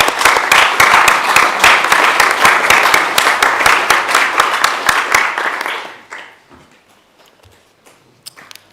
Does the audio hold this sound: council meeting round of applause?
yes